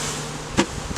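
Honeybees buzz loudly and close by as they are knocked down into a hive box for queen cell building, a dense steady drone broken by two sharp knocks against the wooden box.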